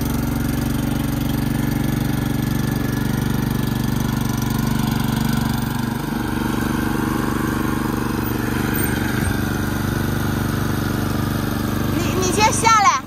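A ride-on lawn mower engine runs steadily at idle, loud and close throughout, on a family plot of grass beside a waterway, with a person talking over it and a few brief clanks near the end.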